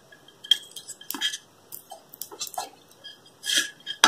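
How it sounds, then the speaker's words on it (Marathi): Knife chopping dates into small pieces on a board, irregular light crisp taps in quick bursts, close and fairly quiet with no talking. "खजूरचे जरा बारीक बारीक तुकडे करून घ्या."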